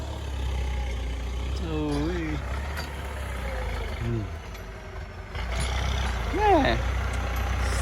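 A New Holland 6640 tractor in middle gear works under load with a steady, low engine rumble close by, while someone talks over it throughout.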